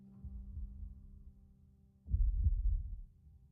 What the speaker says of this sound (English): After 11 goes, it cuts to black and we hear a heartbeat.